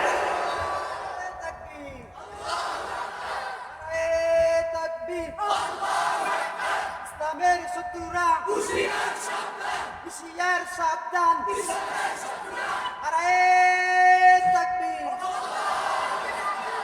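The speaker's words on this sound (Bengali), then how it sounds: "তো নারায়ে তাকবীরের স্লোগান এত আসতে কেন?" A large crowd at a Bengali Islamic sermon gathering shouts the Nara-e-Takbir slogan in repeated call-and-response waves. A lead voice calls out and the massed voices answer loudly several times over the span.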